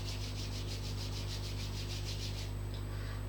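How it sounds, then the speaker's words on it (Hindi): Palms rub briskly together during a dance aerobics workout, a steady rhythmic swishing over a constant background hum, with no talking. "One more time, rub your hands, upper body."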